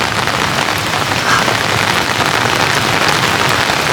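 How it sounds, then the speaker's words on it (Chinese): Steady, dense rain pours down at a creekside campsite near Heping Bridge in Fuxing, Taoyuan, a close, even hiss of drops striking surfaces that fills the whole stretch with no voices. "但是下雨，然後天氣又冷，就不能下去泡水"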